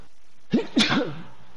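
A single sneeze bursts out close and loud after a moment of quiet, a sharp intake-and-release with a brief trailing breath, during a Minecraft gaming session.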